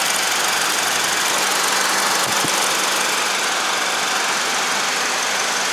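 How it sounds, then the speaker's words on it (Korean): A second-generation Honda CR-V engine idles steadily, a broad even hum with a brief knock or tap partway through, close by and alone without talk. "엔진 소리는 확실히 좋네요"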